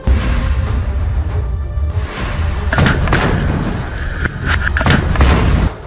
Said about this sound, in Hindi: उन्होंने पहले निशाना साधा और फिर रॉकेट छोड़ दिया, जिसके बाद जोरदार ब्लास्ट हुआ